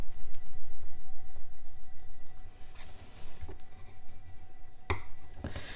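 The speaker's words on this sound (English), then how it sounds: "so I'm just going to smooth it with my bone folder." A bone folder rubbing across a planner page, giving soft, steady scraping strokes close up at first, then thinning into quieter rubs broken by a few sharp taps and clicks, with no voices.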